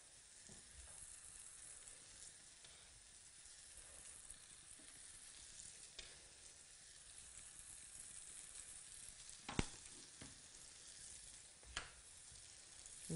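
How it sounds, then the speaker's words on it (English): Burgers fry in a pan on reduced heat, giving a faint, steady sizzle with occasional small pops throughout. "Now they're sizzling away."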